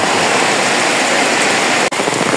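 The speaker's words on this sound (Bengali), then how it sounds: "বৃষ্টি পড়তেছে, বৃষ্টির পানি, অবস্থা খারাপ।" Heavy rain pours down in a dense, loud, steady hiss, close and continuous, with a brief dip near the end.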